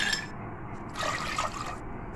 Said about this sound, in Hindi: 2 कप ठंडे पानी के और डालूंगी।